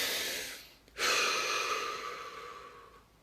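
One long deep breath during a guided relaxation session: a slow inhale, a brief pause, then a long audible exhale that fades out, close and alone.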